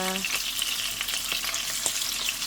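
Pork pieces deep fry in hot oil, giving a dense, bright, continuous crackling sizzle close up, with faint brief pops scattered through and no voices.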